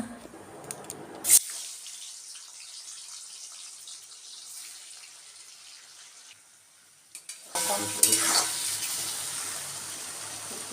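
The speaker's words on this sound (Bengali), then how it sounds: "ঘি আর সাদা তেল দিয়ে পনিরটা ভেজে নিলাম" Paneer fries in ghee and oil, giving a close hissing sizzle that breaks off into near silence for several seconds, then returns strongly.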